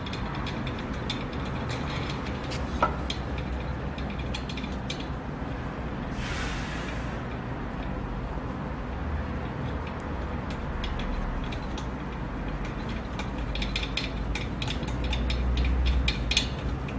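Mechanical ratcheting clicks as a screw is loosened on the shaft of an ODR-10 oscillating disk rheometer, a steady dense rattle running throughout with a brief higher hiss partway through.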